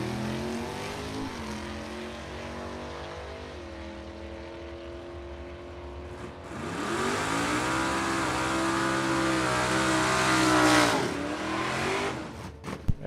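At a drag strip, a Volkswagen Bug and an '88 Mustang race down the quarter mile: engines idle and rev with rising, wavering tones, then roar loudly as they launch and pass, fading out near the end.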